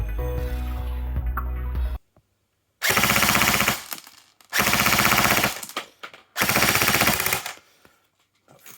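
An ASG CZ 805 BREN A1 airsoft rifle fires three loud full-auto bursts of about a second each, rapid mechanical rattling separated by short silences, after a steadier whirring stretch.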